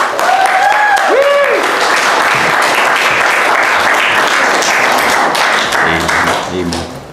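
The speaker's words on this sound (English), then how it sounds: "with a big roaring cheer and a big old applause" A church congregation cheers and applauds as the pastor is called up for Sunday worship: loud, sustained clapping with whoops and shouts near the start, then a voice speaking over the fading applause at the end.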